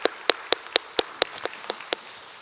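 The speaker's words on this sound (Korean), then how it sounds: "우리 서로를 위해서도 한번 큰 감사의 박수 서로에게 축복하며 올렸으면 좋겠습니다" A church congregation gives thanks with applause: about ten crisp claps in steady unison rhythm, fairly close, gradually softening toward the end with no talk over them.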